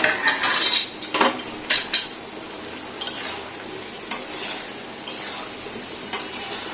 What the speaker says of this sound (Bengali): এখন আমরা ডিমগুলো মশলার ভিতরে ছেড়ে দিলাম।